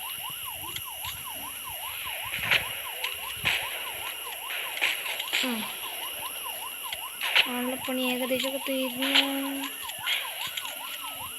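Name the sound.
police car siren in Rope Hero video game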